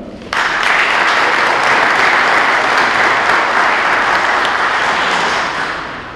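An audience at a festive city council session in Arad, Romania, welcoming delegations from sister cities, bursts into sustained, dense applause that holds steady for several seconds before fading slightly.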